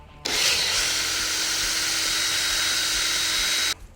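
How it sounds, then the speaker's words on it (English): A drill bores a tap hole into a maple tree trunk about four feet up, one continuous close, high whine lasting several seconds, starting and stopping sharply, with no talking. "Next, tap your tree about 4 feet high."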